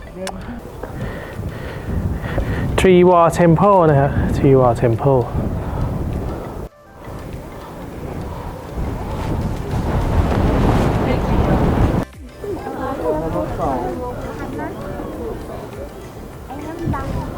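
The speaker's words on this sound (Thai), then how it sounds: "ลมแรงมากครับคุณผู้ชมครับ" Strong wind buffets the microphone at a scenic outdoor spot in Georgia, roaring loudly in gusts between and under someone talking.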